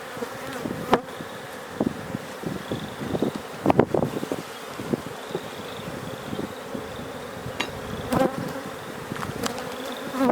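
Honey bees buzzing steadily around an open beehive during a spring inspection, a continuous close hum with scattered bees passing near, alone without talk.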